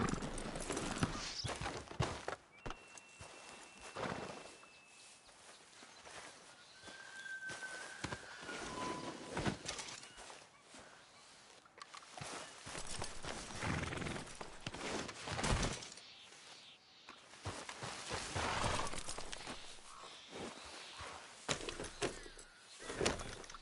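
Horse hooves clip-clop at a steady walking pace in a PS4 video game, against a busy outdoor backdrop, with a faint bird call now and then.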